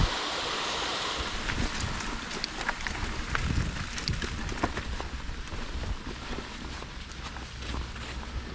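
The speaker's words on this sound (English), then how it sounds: "Waterfall." Waterfall beside a mountain bike trail at Caron Park in Faribault, Minnesota, giving a steady broadband rush of falling water, with some wind buffeting on the microphone.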